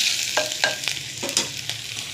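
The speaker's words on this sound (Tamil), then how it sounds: "இந்த வெண்டைக்காவும் போட்டு நல்லா வதக்குவோம்" Okra (ladies' finger) sautés in a pan for a Nagercoil-style dish, a constant bright sizzle broken by several quick scraping strokes as it is stirred, close and fairly loud with no voices.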